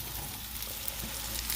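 Hash browns fry in a pan with a steady, dense sizzle and crackle that holds evenly throughout, close and continuous with no talking.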